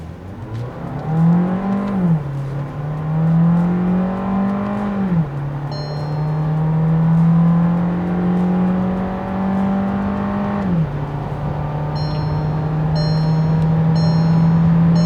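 A Skoda Slavia with a 1.5 litre engine launching and accelerating hard on a race track, the engine note climbing steadily through gears with brief dips at each shift, loud and continuous throughout.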